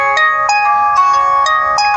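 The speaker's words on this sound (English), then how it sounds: "That was my alarm letting me know I'm supposed to be going to the doctor" A phone alarm plays a loud, bright electronic ringtone, a melodic repeating pattern of tones pulsing roughly every half second, heard alone and up close.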